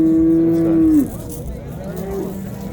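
Cow lowing at a cattle market for cows, one long loud moo followed by a quieter second call over steady crowd noise.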